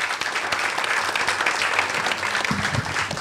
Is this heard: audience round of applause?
yes